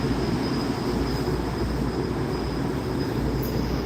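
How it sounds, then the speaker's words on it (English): A train stands waiting to depart, giving off a steady, loud rumble with a faint high whine held throughout, and no voices heard. "this train is probably going to leave in the next"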